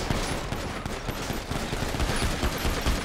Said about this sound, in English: He's shooting. He's shooting.